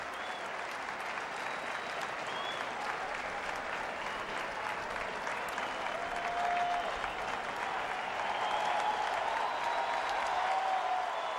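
Baseball fans cheer and applaud at PNC Park during a Reds at Pirates game, a steady, dense roar of crowd noise that swells slightly toward the end, with faint whistles over the top.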